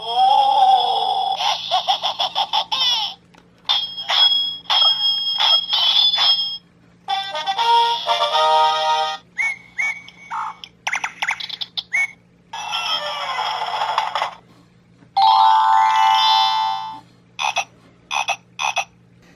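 A LEGO Duplo sound brick plays electronic sound effects at button presses, including croaks and chirps, in a series of separate bursts of varying length with short silent gaps between them.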